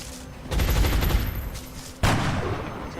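Gunfire in the video game XCOM Long War, two dense volleys of rapid shots aimed at alien drones, loud and close with no voices.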